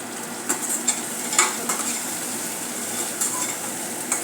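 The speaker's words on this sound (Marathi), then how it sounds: "कोथिंबीरही थोडीशी मिक्स करून घेतलेली आहे" Sautéed onion and chopped coriander for a veg momo filling are stirred in a hot pan, a soft continuous sizzle with light scraping and occasional utensil clinks, close by with no talking.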